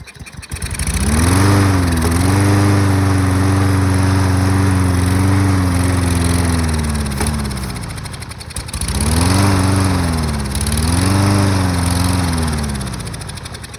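A lawn mower engine runs loudly up close during a self-propel test, a steady droning roar that dips and rises in pitch twice as the load shifts, with no talking.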